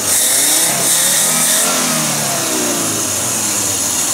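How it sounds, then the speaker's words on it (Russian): An Audi B90 engine fitted with a Solex 73 carburetor revs loudly and close, rising and holding at a steady high pitch throughout, with no talk over it. "Карбюратор работает"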